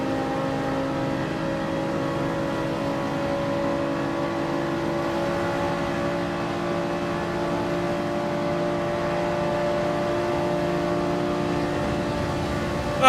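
A Toyota Supra race car in Gran Turismo 7 at the Nürburgring holds a steady, loud engine drone with strong harmonic tones throughout, sustained under power as it pushes to pass another car, with no talk.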